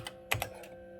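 A few light clicks of keys typed on a vintage laptop keyboard, quiet and close over a faint steady hum.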